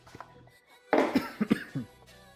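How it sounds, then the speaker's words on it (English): A single harsh cough bursts out close to the microphone, followed by a few rough throaty catches against a quiet background. "sorry guys, I got a little bit of a cough."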